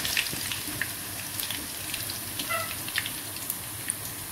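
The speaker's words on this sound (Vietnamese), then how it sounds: "mình chiên sơ thôi cả nhà, chiên như vậy là vừa nha cả nhà." Potatoes fry in hot oil for a Vietnamese duck curry, a steady soft sizzle with scattered pops and crackles, close and moderately quiet, with no talk.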